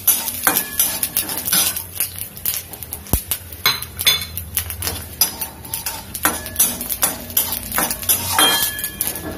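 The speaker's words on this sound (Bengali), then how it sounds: "শুকনো লঙ্কা দুটো ফোড়ন দিলাম, একটু নাড়াচাড়া করে নিচ্ছি।" Dry red chillies and spices sizzle in mustard oil while a metal spoon stirs and clinks against the pan in quick, repeated scrapes and taps, close and busy, with no voices.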